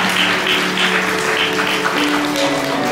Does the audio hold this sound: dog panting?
no